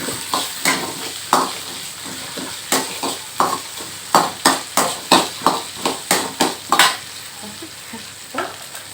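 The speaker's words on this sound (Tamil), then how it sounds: "காரத்துக்கு 3 பச்சை மிளகாய் போட்டுக்கோங்க. இப்போ நல்லா வதக்கிடணும்." Three green chillies sautéed in a pan for raw mango chutney: a bed of sizzle under a run of sharp, regular spoon strikes and scrapes against the pan, close and loud, ending with a few slower taps.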